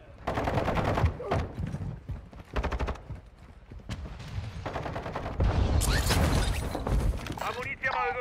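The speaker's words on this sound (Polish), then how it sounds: "Jestem pod ostrzałem!" A video game firefight with the player under fire: rapid machine-gun bursts and single shots crackle close and loud, with voices talking over the shooting.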